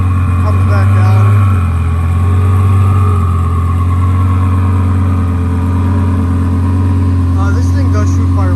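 Steady low engine rumble from a 2008 Lamborghini Superleggera fitted with an Underground Racing twin-turbo kit, settling into a loud, even idle with a slight rise and fall in revs, running throughout under some background voices.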